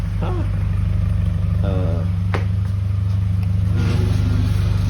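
A 1962 MG Midget Mark I engine idles loudly and steadily in a garage after starting, a low, even throb under brief talk from a nearby voice.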